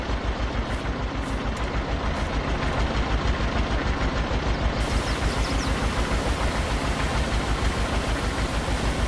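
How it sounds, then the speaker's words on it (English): In Farming Simulator 22, a pressure washer sprays a tractor bucket clean, giving a continuous loud hissing jet over a pulsing engine drone, with no talking. "I'm just going to spray the bucket off here."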